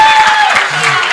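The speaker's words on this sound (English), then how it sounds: "Clap first for the person that is going, so that they will clap for you later." Dense clapping from a crowd fills the brief moment, steady and fairly loud, with a faint tone running underneath.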